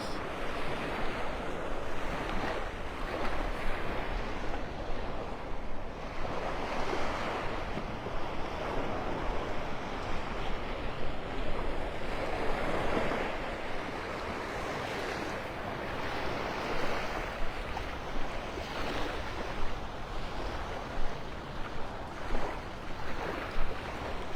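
Ocean surf rolls onto a beach at Clam Pass in North Naples at sunrise, a continuous wash of breaking waves mixed with gusty wind buffeting the microphone.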